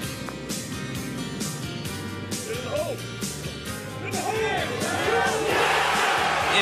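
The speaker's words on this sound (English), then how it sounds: "The big crowd's appreciating it" A large golf gallery at the 2007 PGA Championship roars after Tiger Woods holes a birdie putt. The cheering swells and grows louder toward the end, under a commentator's voice.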